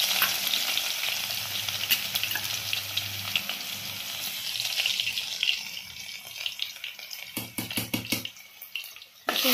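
Garlic and asafoetida frying in hot oil, a steady bright hiss that runs throughout, with a low hum early on and a cluster of clinks and scrapes near the end, no voices.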